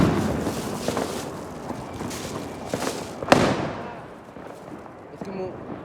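A parachute firework goes off outdoors during Diwali celebrations with friends: a loud crackling burst and several sharp pops over steady rumbling from other fireworks nearby, then fading into a quieter hiss.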